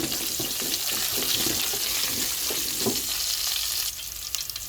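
Garlic frying in a little cooking oil in a pan, a close continuous sizzle with some crackling pops, easing slightly near the end, no talk over it.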